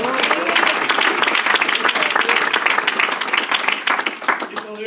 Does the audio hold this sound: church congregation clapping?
yes